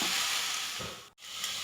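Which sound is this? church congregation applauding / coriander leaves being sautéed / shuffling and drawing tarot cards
coriander leaves being sautéed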